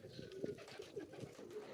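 Soft, repeated pigeon coos sound through a hazy background, low and rounded, recurring several times over the short stretch.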